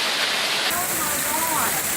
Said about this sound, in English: torrential downpours